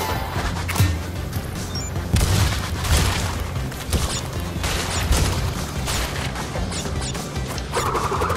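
Dense, loud game combat noise from Crash Bandicoot 3: Warped, with repeated gunfire-like bangs and crashing impacts running continuously throughout.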